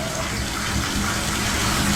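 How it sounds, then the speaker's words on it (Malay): Water running from a tap fills a bathtub with a loud, steady, close rushing gush that holds throughout with no talk. "air masih mengalir, bathtub masih lagi nak penuh, belum penuh habis"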